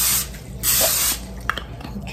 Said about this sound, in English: So I'm just using a simple butter spray here, and I'm going to spray the foil really well.